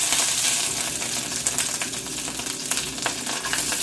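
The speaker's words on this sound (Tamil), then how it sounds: "கொஞ்சம் கடுகு கொஞ்சம் பெருஞ்சீரகம் ஆட் பண்ணுறேன்" Mustard seeds, fennel and curry leaves fry in hot oil with a dense crackling sizzle and scattered sharp pops, close up, while a utensil stirs now and then.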